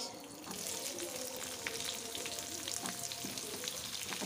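Dried red chillies and onion frying in a pan for a chicken dish, a steady close sizzle with soft stirring scrapes throughout, no talk.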